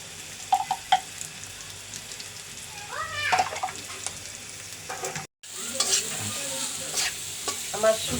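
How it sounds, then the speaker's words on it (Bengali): Dried fish fries with onion and garlic in a pan, giving a continuous close sizzle with stirring clatter; a few squeaky, meow-like calls and faint background voices come through over it. "আমার শুটকিটা পেঁয়াজ রসুন শুটকিটা ভাজা হয়েছে, কষানো হয়েছে।"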